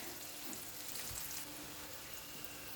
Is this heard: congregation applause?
no